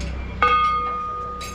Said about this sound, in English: Stupas are everywhere across the city, and you ring the bell for like good luck and good vibes.